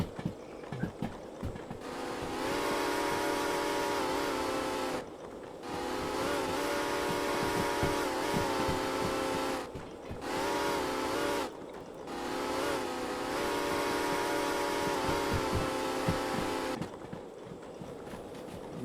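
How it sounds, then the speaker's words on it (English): The six-chime whistle of the ATSF 2901 steam locomotive in the train game Derail Valley, sounded in three long, loud blasts separated by short gaps, rich and chord-like, with rumbling engine noise underneath. "Love that 6-chime whistle."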